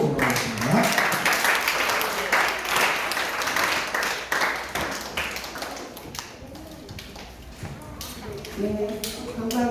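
A crowd of children and adults at a children's Sunday church service applauds a teacher with a dense patter of clapping that fades near the end, while a voice talks over it.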